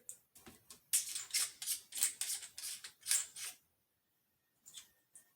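A Leupold VX-Freedom 6-18x40 rifle scope adjustment knob is turned in a quick run of crisp, close clicks, then a pause before two more faint clicks.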